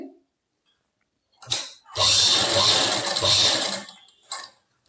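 A sewing machine stitches a salwar in two bursts, a short run followed by a longer steady whirring stretch of about two seconds, then a brief final burst, with quiet gaps between.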